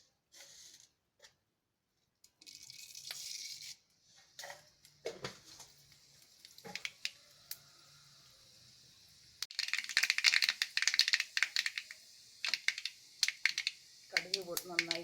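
Mustard seeds spluttering in hot coconut oil: scattered sharp pops and crackles come in short bursts, then grow dense and rapid near the end, with quiet gaps between the flurries.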